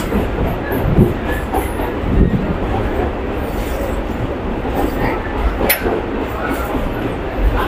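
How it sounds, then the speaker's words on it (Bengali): From aboard a train on the Sealdah to BBD Bagh route in Kolkata, a loud rolling rumble runs throughout. Rhythmic clickety-clack of wheels over rail joints and an occasional brief squeal rise above the steady drone. "ট্রেনটা আমাদের ঘুরে ঘুরে যাচ্ছে"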